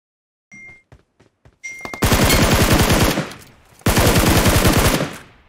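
PUBG Mobile gunfire: a few isolated single shots, then two long bursts of rapid automatic fire, loud and close, separated by a brief pause and ending abruptly.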